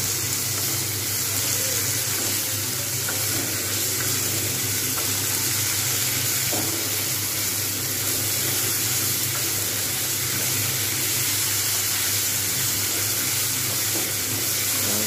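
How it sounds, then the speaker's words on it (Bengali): Sabudana khichdi fries in a pan while being stirred, a loud, constant sizzle with soft scraping throughout and no talking. "এভাবে আমি কিন্তু সবগুলো ভালো করে নাড়বো।"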